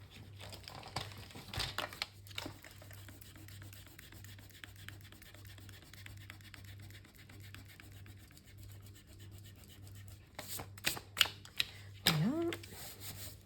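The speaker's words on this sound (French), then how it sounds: "je vais devoir effacer ce que j'ai mis à l'intérieur" Pencil eraser rubbed over paper inside a folded accordion page of a scrapbook album, soft scratchy strokes close up, followed by a few sharper handling taps and rustles near the end.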